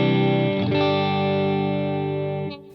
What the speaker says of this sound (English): And now you can hear the reverb.